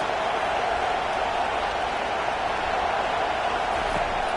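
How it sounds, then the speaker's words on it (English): A packed stadium crowd at a Michigan college football game roars steadily as the home defense takes the field, a dense, unbroken wall of cheering that holds loud and even throughout. "Listen to this crowd just shaking the girders of this place, trying to help their defense."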